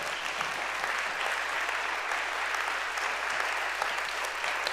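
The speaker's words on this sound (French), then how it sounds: "applaudir nos 4 intervenants de ce matin" A forum audience at a security event in the Chablais region applauds its four morning speakers with a full, even burst of clapping that stays close and constant throughout, over a low hum.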